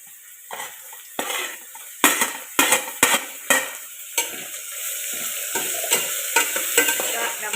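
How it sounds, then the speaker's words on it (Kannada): Chopped tomato hits hot oil with crushed ginger and garlic in a pan for mushroom biryani, giving a steady loud sizzle broken by a series of sharp stirring scrapes and spoon clinks, with no talking. "ಇನ್ನು ಹೆಚ್ಚಿಟ್ಟ ಟೊಮೆಟೊ ಹಾಕುವ."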